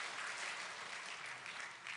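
Faint, even applause fills a Korean Sunday church service, continuous and distant, with no break across the short span.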